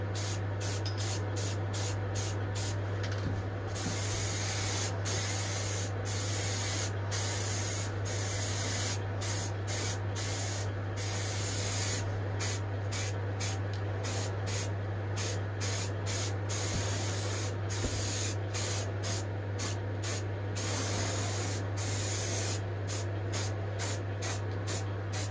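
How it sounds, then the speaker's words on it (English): Repeated bursts of aerosol spray coating a mains conditioning hub case, short hissing blasts fired in quick succession over a steady low electrical hum, close and fairly loud throughout. "Okay, spray this in again."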